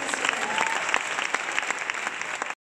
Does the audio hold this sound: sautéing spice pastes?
no